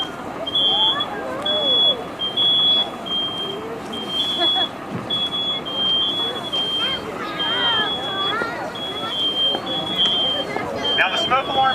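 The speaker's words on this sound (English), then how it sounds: "Now the smoke alarm is sounding." A smoke alarm shrills in repeated high pulsing beeps during a live fire in a non-sprinklered room, steady and piercing over crackling burning and a murmur of voices in the background.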